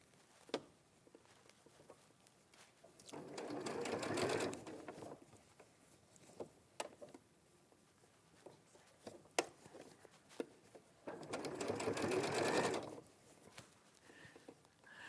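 A sewing machine stitching a child-size garment runs in two short, faint buzzing bursts, separated by quiet stretches with scattered light clicks and handling noise.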